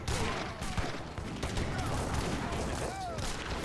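In an Age of Empires 3 battle, a Falconet cannon fires amid dense in-game combat, with scattered shots and impacts over a busy, continuous battle din.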